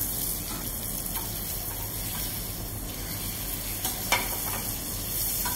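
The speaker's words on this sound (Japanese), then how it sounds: "こうやって上から油をかけることによって、しっとりと焼き上がります" Yellowtail fillet sears in a frying pan while hot oil is spooned over it, giving a steady close sizzle with occasional stirring clicks and scrapes throughout.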